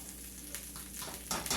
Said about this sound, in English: I'm going to let that V8 cook.